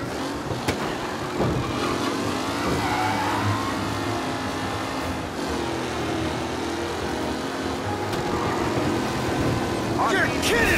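Race car engines roaring and revving during the big race in Mafia Definitive Edition, a continuous loud drone with shifting pitch and brief whooshes, with voices speaking over it.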